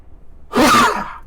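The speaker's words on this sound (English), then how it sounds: "I'm assuming that was to the sneeze and not just a generic bless you." A single short, sharp sneeze bursts out close by during a tabletop card game, loud and abrupt after a quiet moment, then fades quickly.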